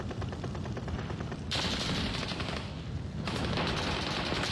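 Rapid automatic gunfire in a first-person shooter video game, with dense, loud bursts of shots that stop briefly and then resume, with no talking.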